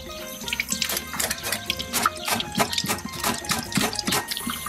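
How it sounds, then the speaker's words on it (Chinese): Tap water runs steadily over a blanched cow head as it is rinsed in a kitchen sink, with scattered splashes and clunks against the steady flow, fairly close and unbroken by talk. "焯完水再把牛头洗一遍"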